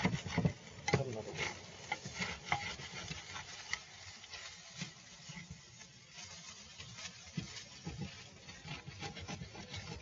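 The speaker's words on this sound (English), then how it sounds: "Make sure to really scrape at the edges as you're cooking this, because these charred bits will be a pain" Charred bits scraped off the edges of a pan during cooking, a rough, irregular rasping and scratching of a utensil against metal, close and fairly quiet, with uneven strokes and small knocks throughout.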